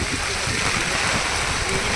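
Heavy monsoon rain pours down on the way to Jyotiba temple in Kolhapur, a dense, loud, continuous hiss close by with voices faintly under it.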